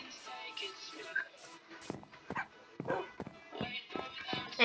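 Pupper, a dog in Minecraft, gives a few short yips and barks between quiet game noises and soft footsteps.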